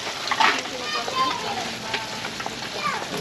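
Steady sizzling of chicken wings frying in hot oil fills the clip, with faint voices and background chatter underneath.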